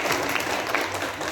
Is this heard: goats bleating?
no